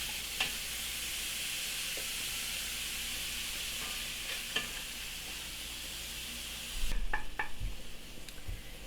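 Broccolini sizzles in a pan for garlic broccolini pasta, a steady close hiss with occasional light clicks and pops, then a louder burst of bubbling frying near the end.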